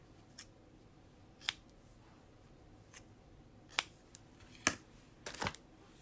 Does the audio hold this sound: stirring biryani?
no